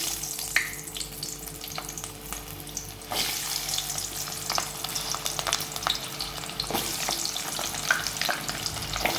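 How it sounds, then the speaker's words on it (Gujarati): Onions fry in hot oil with a continuous crackling sizzle. Stirring scrapes and small pops recur throughout, and the sizzle grows slightly louder partway through. "પહેલાં આપણે તેલમાં છે ને ડુંગળીને તળી લઈએ"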